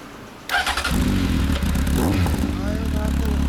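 A Honda CB1300 Super Four fitted with a Moriwaki exhaust starts up abruptly after a short quiet moment, then settles into a loud, deep, steady idle close by, with brief voices over the rumble.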